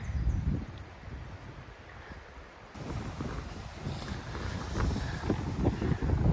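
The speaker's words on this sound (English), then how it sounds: "Well, we're back to windy days." Steady wind buffets the microphone with low rumbling gusts, continuous and fairly loud throughout, with a brief drop partway before it picks up again.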